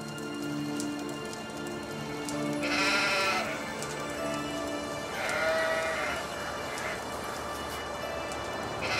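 Sheep bleat in an open field, two or three distinct calls rising over a steady bed of soft pattering rain and background music, with no talking.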